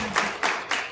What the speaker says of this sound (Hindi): तो सब लोग एक बार फिर से ताली बजाएंगे इनके पापा के लिए।